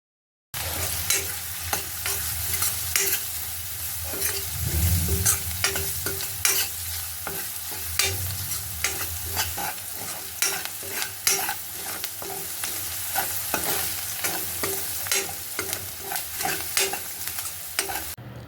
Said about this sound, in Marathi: आपला कांदा भाजतच आलेला आहे